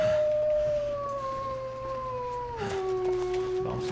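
Wolves howling in the video game The Long Dark, two long overlapping wavering howls from a pack, gliding and falling in pitch, fairly close, with no talk over them.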